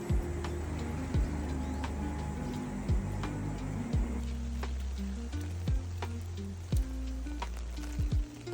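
Rain falling at Hanamiyama Park in Fukushima, Japan, among cherry blossoms: a steady, close patter of drops with irregular louder ticks and taps as drips hit nearby surfaces.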